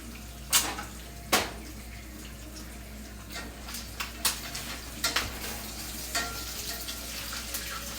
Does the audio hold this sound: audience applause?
no